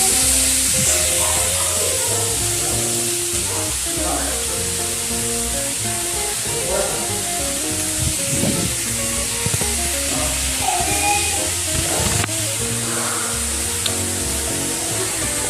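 Chopped bottle gourd stems cooking with ripe tomato in a hot pan give a continuous dense sizzling hiss, loud and close, with occasional soft stirring knocks.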